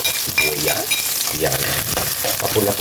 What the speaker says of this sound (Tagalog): igisa lang natin sa bawang at sibuyas